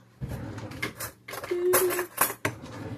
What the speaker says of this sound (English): I'm going in with a heaping tablespoon of Crisco